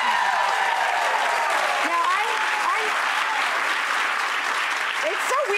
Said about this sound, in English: when people applaud your birthday